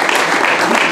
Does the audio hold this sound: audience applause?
yes